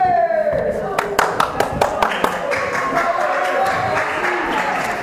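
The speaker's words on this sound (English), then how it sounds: "Worthy round of applause for CDP." A crowd at a UK professional wrestling show applauds, with many hands clapping in a dense, continuous patter, loud and near, while a voice speaks over it.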